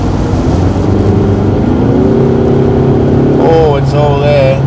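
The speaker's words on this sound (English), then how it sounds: "Okay, let's try the racetrack just for a laugh," Ford Mustang engine on a racetrack, a loud close drone with a rising rev that sweeps up sharply near the end, heard over continuous engine noise.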